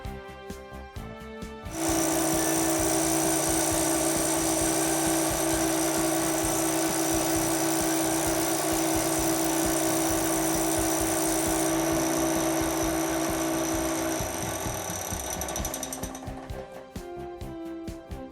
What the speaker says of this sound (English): This test equipment generates extremely tough vibrations and impact in accordance with National Aerospace Standards NAS 3350 and 3354